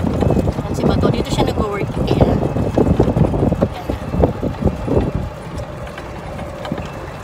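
Riding along in a golf cart at Sherwood Hills Golf Club, with rumbling wind buffeting and bumpy rattling from the ride, loud and close, under conversation between passengers.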